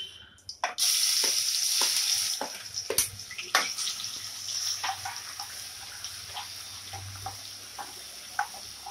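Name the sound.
ginger garlic paste frying in hot oil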